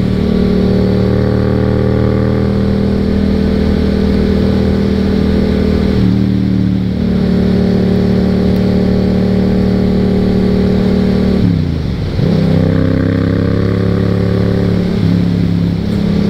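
Yamaha FZ07 700cc motorcycle engine while riding, a loud steady mid-pitched drone with harmonics that drops briefly around six seconds and dips sharply near twelve seconds before climbing again as the rider shifts and accelerates, with no talking.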